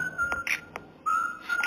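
A person whistles a pop song melody, bright sustained whistled notes with short breaks between phrases, close and clear.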